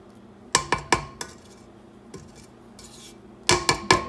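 A spatula scraping and knocking against a mixing bowl while making tart dough by the creaming method, in several sharp clinks and taps clustered in two bursts with quieter scraping between, close and without talk.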